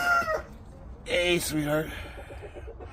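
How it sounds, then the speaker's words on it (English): Small backyard chickens of a tiny breed cluck and crow in short throaty bursts close by, with a person speaking softly among them. "These are the little tiny chickens."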